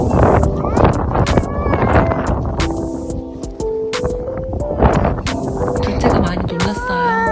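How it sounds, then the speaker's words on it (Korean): Strong gusts of a March snowstorm in Canada roar loudly across an outdoor playground, buffeting the microphone with rough, surging wind noise while a voice talks over it. "점점 바람이 무섭게 불기 시작했어요. 바람이 어찌나 세게 불던지 둘째 귀마개가 날아갈 뻔했어요"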